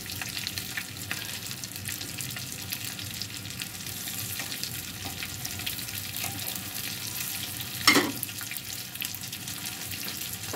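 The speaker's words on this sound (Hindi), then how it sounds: "ये देखें ये फ्राई हो रहे हैं ना" Kababs frying in a pan, a moderate, steady crackling sizzle that continues throughout, with a brief louder clatter partway through.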